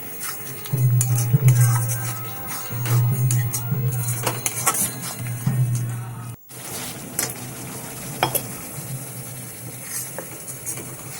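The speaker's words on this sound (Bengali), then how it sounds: "সমস্ত কিছু দিয়ে ভালো করে মশলাটাকে কষিয়ে নেব যতক্ষণ না মশলার দিকে তেল ছেড়ে আসে" Spice paste for a bata fish curry, with a pinch of sugar added, being sautéed in a pan: close scraping and clattering of a spoon over a soft sizzle, with a low hum running underneath.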